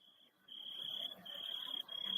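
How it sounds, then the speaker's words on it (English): A cricket chirps in a continuous high, steady trill, faint and alone against quiet background hiss. "I can hear like a cricket."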